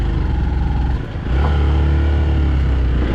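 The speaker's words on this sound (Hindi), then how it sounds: "लोड मान रही है मेरी बाइक इस समय, इतना सीधा है ऊपर को।" A motorcycle labors uphill in first gear on a steep mountain road toward Kailash Mansarovar, its engine droning loud and steady close by, with a brief dip before pulling again under heavy load.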